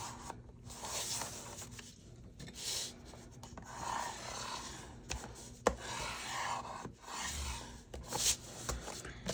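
A paper junk-mail envelope is folded over and creased, giving soft rubbing and scraping strokes in short bursts with brief pauses, close up and fairly quiet.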